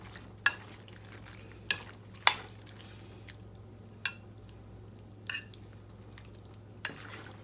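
Spoon stirring through a creamy Italian pasta salad in a bowl, a handful of soft wet clicks and scrapes spaced a second or so apart over a quiet room hum.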